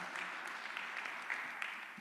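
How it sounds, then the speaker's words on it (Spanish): A church congregation claps in a faint, steady patter of many hands, spread evenly and heard from a distance with no one speaking. "denle un aplauso ahí al Señor, regálele una ofrenda de palmas"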